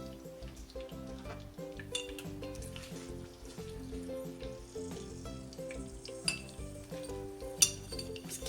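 Garlic paste sautéing in a pan, a soft continuous sizzle broken by clinks of a metal spoon against the pan and a couple of sharper knocks, with no voices and background music beneath.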